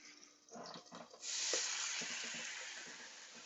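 Water hits a hot griddle with a sudden loud sizzling hiss that settles into a steady steaming fizz, close up, with faint clatter before it.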